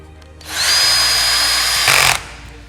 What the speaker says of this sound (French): je préfère utiliser la visseuse